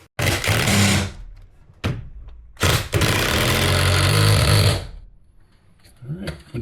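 Lag bolt driven into a garage wall with a power driver to mount a garage door spring, two loud sustained whirring bursts close by, the second longer, with a brief clunk between and a quiet pause after.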